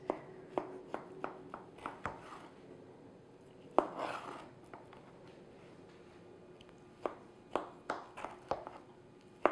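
A knife cuts a slice of apple gingerbread cake, giving a series of sharp, close taps and clicks against the plate in irregular bursts, with quiet pauses between strokes.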